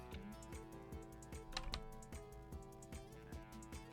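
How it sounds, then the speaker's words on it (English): Faint keys tap on a computer keyboard in quick irregular clicks, quiet and steady over a background of video game music. "you can just hear me, like, tapping on my keyboard"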